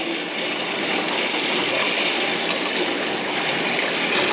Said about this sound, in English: we have hot running water